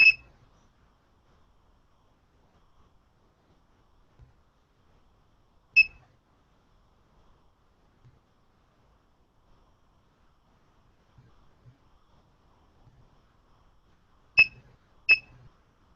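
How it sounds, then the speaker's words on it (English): A radiation detector gives sparse, short, sharp beeps at irregular intervals, including a close pair near the end, against near silence during a live radioactivity test on a dog bone. "Ryan, are the beeps that we're hearing from the radiation detector, are those alarms or"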